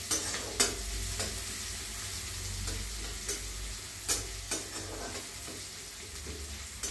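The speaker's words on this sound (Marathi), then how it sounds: "कांदा चांगला परतला गेला ना थोडासा" Chopped onion sautéing in a pan on the stove with a steady sizzle, joined by spoon scrapes and stirring knocks against the pan at irregular moments. A low hum runs underneath.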